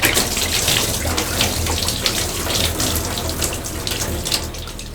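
Water draining out of bottles as a continuous loud gushing and gurgling, a dense rushing flow that holds steady throughout without pause.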